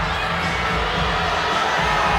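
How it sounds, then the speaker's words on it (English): Kentucky Wildcat fans at a gymnastics meet against EMU shout at a judge seated right in front of them, a dense, continuous roar of crowd voices and yelling that stays loud and steady throughout. "the judge right in front of the Kentucky crowd is catching an earful from the Wildcat faithful"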